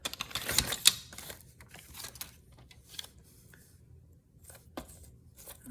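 Sheet of paper cut in half with scissors, giving a close crisp snipping burst followed by softer scattered clicks and rustles in a quiet room.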